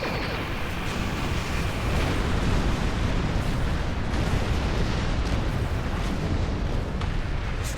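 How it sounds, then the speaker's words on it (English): Defensive cannons fire in the space game Star Trek Online, a dense, continuous rumbling barrage of booming blasts that stays loud and steady throughout, with no voices. "They've powered up defensive cannons and launched small craft."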